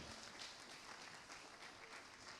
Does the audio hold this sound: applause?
yes